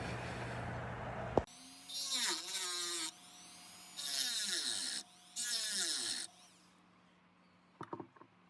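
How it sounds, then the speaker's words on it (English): A Dremel rotary tool cuts a small witness mark into the brush housing of a 1935 General Electric SCR 1 HP repulsion-induction motor. It gives three loud, high whining bursts of about a second each with short pauses between them, close to the listener. "I'm going to take the Dremel. I want to make a little witness mark on this brush housing in relationship to the body"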